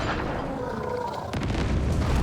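A heavy ship weapon fires in the naval combat game Abandon Ship, a single booming shot bursting out partway through over a steady background rumble, loud and close.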